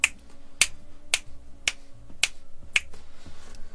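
Sharp finger snaps ring out in a steady rhythm, about six evenly spaced clicks, close and crisp over a faint musical backdrop in the video game Two Point Hospital.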